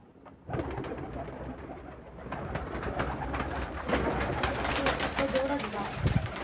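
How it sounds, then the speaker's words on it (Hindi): Siyah toga fancy pigeons coo softly at close range amid a busy aviary background, with steady low rumbling and someone talking over the birds. "ये है सियाह तोगा कबूतर।"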